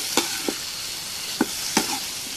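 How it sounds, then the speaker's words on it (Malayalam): Sliced plantain being stirred with chili powder in a pan for kaya mezhukku varatti, a few sharp scraping and clacking strokes with quiet sizzling between them, close by and with no talking. "നേരത്തെ അരിഞ്ഞ് വെച്ചിട്ടുള്ള കായ അതിന് ഇട്ട് കൊടുത്ത് നന്നായി ഇളക്കിയെടുക്കാം"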